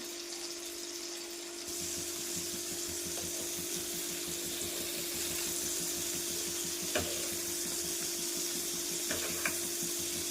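A whole uncut piece of paneer frying in oil in a pan, giving a soft, even, continuous sizzle with a few faint clicks and no talking.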